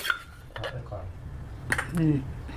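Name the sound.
scooping pounded paste into a bowl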